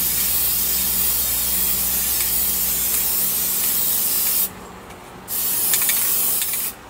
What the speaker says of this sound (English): I just take my time spraying a little bit at a time, and then I'll go back over and coat it.